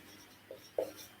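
Two brief scratching strokes of a pen or marker on a board during a biology class, close and quiet against a low background hum.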